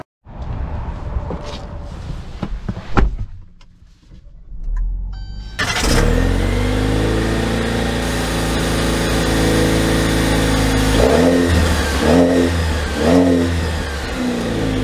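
A 2024 Jeep Compass Trailhawk engine cranks and catches after a few quiet clicks. It settles into a steady idle, then revs up three times in quick rising swells before easing back.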